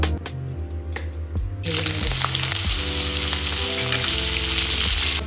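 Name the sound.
cauliflower frying in a pan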